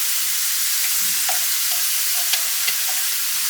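Chopped celery sizzling and frying in a hot pan on medium heat, a steady close hiss with faint stirring clicks throughout.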